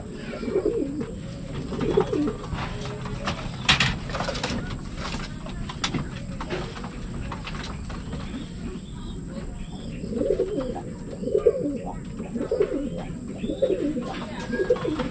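Pigeons coo repeatedly in soft, low rolling calls, close by and moderately loud, with some chirps and flapping movements mixed into the steady background.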